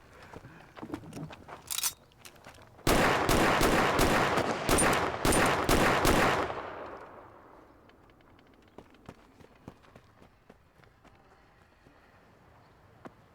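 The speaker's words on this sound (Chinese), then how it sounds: "何必这个开枪打靶呢？" Rifle shots at target practice, a few scattered cracks followed by a dense rapid burst of loud repeated gunfire for several seconds, then fading to sparse faint pops.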